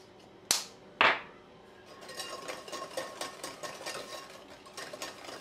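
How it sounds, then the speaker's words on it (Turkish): Eggs and sugar for brownie cookies are whisked by hand in a bowl, after two sharp knocks at the start, a quick run of light, rhythmic clicking strokes at close range. "Ve şöyle güzelce çırpıyorum."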